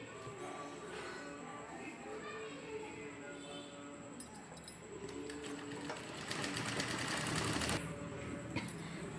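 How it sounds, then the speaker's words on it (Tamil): Sewing machine stitching jute fabric for a shopping or lunch bag, running steadily throughout with a denser, louder burst of rapid stitching in the second half, with faint voice in the background. "இதை இப்போ தைச்சிக்கலாம்."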